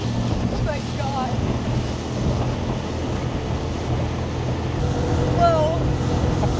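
A boat runs at full throttle on the open sea off Cancun, with a steady, loud roar of engine, rushing water and wind buffeting the microphone throughout, and faint voices or whistles now and then.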